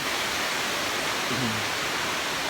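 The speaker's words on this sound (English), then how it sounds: "And so is this waterfall here." A waterfall in Tomlinson Run State Park roars as a steady, dense broadband rush, constant and close, with a faint voice-like murmur briefly under it.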